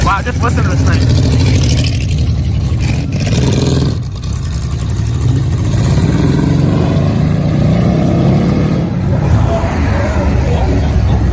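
Loud, steady engine roar from what appears to be a 1950s Ford at a driveway muscle car gathering, droning continuously through the whole stretch with a brief dip near the middle.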